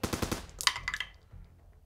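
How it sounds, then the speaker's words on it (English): Short burst of autogun fire used as a sound effect in a tabletop Kill Team battle report, Black Templars versus Chaos: a rapid volley of several close, loud shots followed by a brief ringing impact and fading tail. "he's going to unload a burst of autogun bullets"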